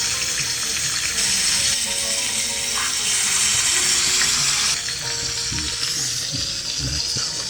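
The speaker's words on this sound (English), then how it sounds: "we want to sear the strip steak, right? We'll sear the New York strip, approximately about a minute on each side" New York strip steak searing in a hot cast iron skillet gives a steady, loud broadband sizzle that holds without a break throughout, with no voices.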